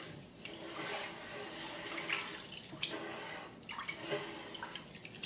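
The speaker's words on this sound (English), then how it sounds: "Put the rice in the pot, put water over it, and just move it around." Water sloshing and swishing in a pot as rice is rinsed and stirred around by hand, with small splashes and drips, fairly quiet and continuous.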